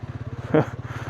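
A motorcycle idles with a steady low throbbing pulse at the start of a mountain ride on the Kaza to Chandratal road, close by, with a brief voice breaking in midway.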